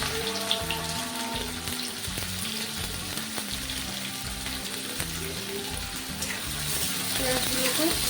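Chopped onions fry in hot oil with whole spices for chicken curry, a steady sizzle and crackle running under a person talking.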